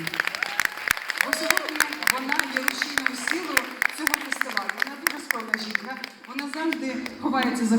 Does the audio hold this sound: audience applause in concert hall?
yes